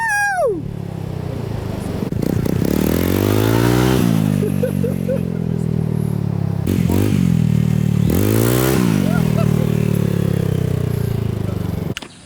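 A motorcycle revving and accelerating hard, the engine pitch climbing repeatedly through gear changes, loud and close for the whole stretch.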